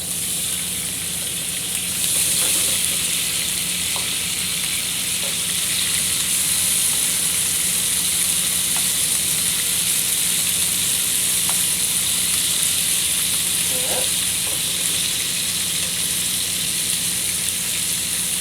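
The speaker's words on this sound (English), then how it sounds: "Now it's going to take about 2 minutes to sear on each side." Steak and potatoes sear in a hot pan, a steady broadband sizzle running unbroken and fairly loud, with a few faint clicks of utensils scattered through.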